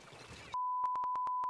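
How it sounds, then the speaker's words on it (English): Electronic beeps from the Splatoon 2 video game: after a brief stretch of background noise, a steady tone starts and a quick series of about seven sharp, evenly spaced beeps rings over it, loud and clear. "That's a lot of beeps, oh man!"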